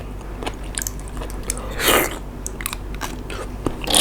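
Someone bites and chews crunchy food close to the mic, with sharp crunches repeating every half second or so and one louder crackling bite in the middle.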